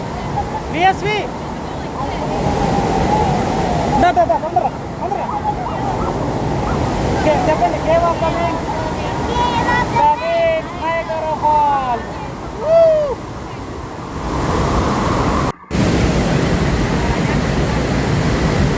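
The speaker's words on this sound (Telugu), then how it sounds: "ఇక్కడ వాటర్ ఫాల్ నైగరా వాటర్ ఫాల్స్ అంత ఫేమస్ అండి" Niagara Falls in New York roars as a loud, unbroken wash of rushing water, buffeted by wind against the microphone, with voices briefly audible in the middle.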